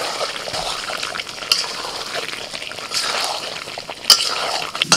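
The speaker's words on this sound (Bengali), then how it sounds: "এবার একটু আলুগুলোকে মিশিয়ে নিই ভালো করে।" Potatoes are stirred into chicken curry in a pan, a continuous close sizzle with soft scraping strokes and a couple of sharper knocks of the utensil against the pan.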